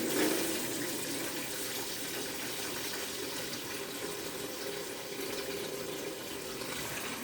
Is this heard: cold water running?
yes